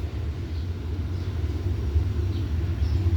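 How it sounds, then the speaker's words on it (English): A train rolls past at a distance behind a backyard, a low steady rumble that swells slightly over a few seconds with no voices. "The train's going now."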